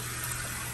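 Tap water runs steadily for a dog's bath, a Yorkie, a close, even rush of flowing water with no voices over it.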